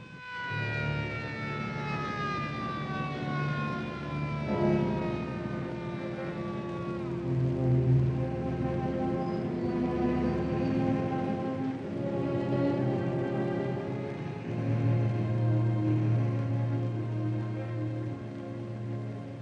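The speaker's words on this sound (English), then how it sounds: "Brand new ambulance." A wailing ambulance siren with sweeping, falling tones, loud and continuous, over a low engine rumble.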